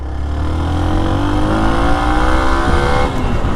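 A 2022 Hero Xpulse 200 4V motorcycle engine revs on the throttle, rising steadily through the mid rpm band, loud and close with a continuous buzzing drone and a slight dip near the end.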